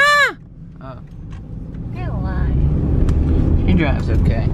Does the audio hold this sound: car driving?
yes